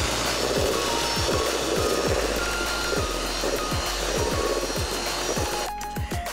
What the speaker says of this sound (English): so first we're gonna beat up the butter at high speed